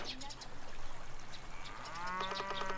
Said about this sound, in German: Jetzt sind die Kühe wieder auf ihrer Wiese.